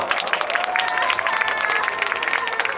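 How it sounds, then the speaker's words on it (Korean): Loud audience applause and cheering for a K-pop group on a Seoul festival stage, a dense crowd of clapping hands with shouts and excited voices mixed in, close and continuous. "여러분 다시 한 번 큰 박수 보내주시기 바랍니다"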